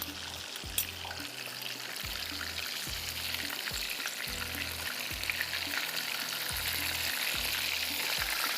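Chandan kebabs frying in a pan of oil, a loud, continuous sizzle with a bright crackling hiss throughout and a steady low rhythmic thumping beneath it.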